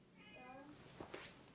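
A cat living at a Buddhist temple gives a short, faint, close meow, followed by a couple of soft taps in a quiet room.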